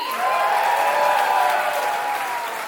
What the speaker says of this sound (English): And make some noise if you want to hear more from Patrick Hasty.